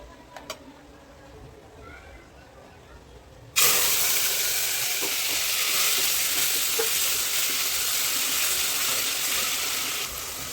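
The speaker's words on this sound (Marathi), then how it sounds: "चिकनचा मसाला चांगला फ्राय करून घ्या।" Chicken masala of ground onion and tomato fries in a pan and breaks into a loud, steady sizzle and hiss that holds to the end, after a short stretch of quiet.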